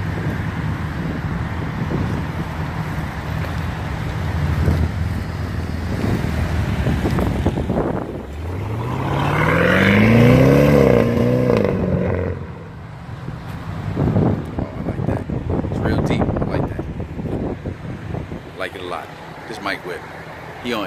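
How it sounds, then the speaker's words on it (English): A 2013 BMW 650i fitted with a Megan Racing Supremo exhaust accelerates, its rising turbo whine sweeping upward over engine rumble and wind noise, with someone talking before and after. "you can definitely hear the whine of the turbo with this"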